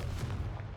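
A Confringo fire spell blast in Hogwarts Legacy, a single short, heavy, booming burst of fiery noise, loud and close, with no talking.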